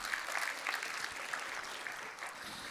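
A conference crowd applauds a port industry panel and its moderator at a business luncheon, producing a fairly faint, steady patter of many hands that stays level from start to finish.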